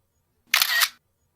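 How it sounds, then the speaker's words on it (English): Traditional camera shutter sound effect from the iPhone camera app, a single crisp two-part click-snap, brief and close, alone in silence. "in the camera app, we play a traditional shutter sound when a user snaps a picture"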